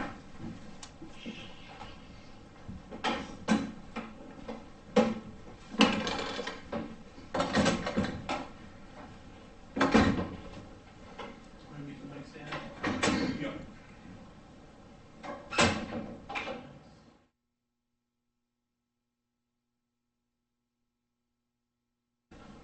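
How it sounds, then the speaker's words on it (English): Meeting-room doors at a town board of selectmen session being shut, a series of repeated knocks and thumps spread over about seventeen seconds, moderately loud, followed by silence. "so I will close the doors."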